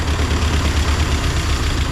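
An 80-year-old Willys Jeep CJ2a engine, recently started after years of sitting, idles with a steady, close, low chugging rumble that carries on evenly throughout.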